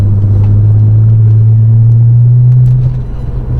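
A 2002 Audi S4 B5 2.7T Quattro Tiptronic sedan engine holds a loud, deep, steady drone for nearly three seconds, then drops away into quieter rumble.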